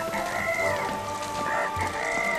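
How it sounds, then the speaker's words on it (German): A chicken clucks in the video game Trine 2, with loud, close, drawn-out squawking calls repeating in rapid bursts over a background hiss. "Das ist ein Huhn. Komm her, du Huhn."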